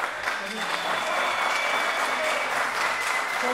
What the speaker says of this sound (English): Round of applause for our referees doing a great job here.